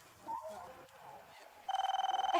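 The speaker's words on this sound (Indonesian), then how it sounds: "Bentar. Telepon." A telephone rings with a rapid, trilling electronic bell pattern near the end, following a few soft voices and background noise.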